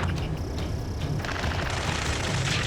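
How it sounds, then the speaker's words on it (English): Rapid automatic gunfire from an Ace Combat 7 mission battle, a dense continuous fusillade of overlapping shots with low booms underneath, loud and sustained throughout. "Taking fire! We're pinned down! Shoot back!"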